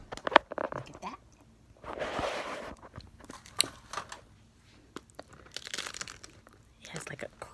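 Crunchy bites into a tempura-fried Twinkie, several loud close crackling crunches spread out in bursts with quiet chewing gaps, interspersed with soft speech.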